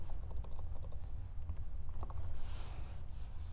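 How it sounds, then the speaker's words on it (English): Quick clicking keystrokes on a computer keyboard as a short word is typed into video editing software, a soft steady patter of taps close by over a low background hum. "So what I'm going to do is just type in the word paint."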